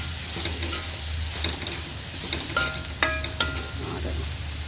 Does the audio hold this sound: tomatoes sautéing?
yes